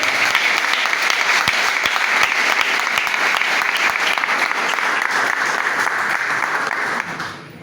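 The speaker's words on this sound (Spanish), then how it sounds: "Denle fuerte el aplauso al Señor." A church congregation bursts into loud, sustained applause during a service, a dense wash of clapping that holds for about seven seconds before abruptly fading.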